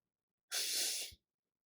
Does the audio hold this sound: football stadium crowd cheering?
no